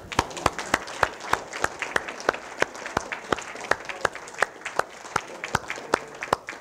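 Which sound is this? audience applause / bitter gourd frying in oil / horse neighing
audience applause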